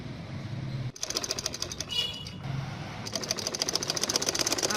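A sewing machine stitches the bottom edge of a samosa-style salwar in two runs of rapid, even needle clatter, broken by a brief pause and handling noise.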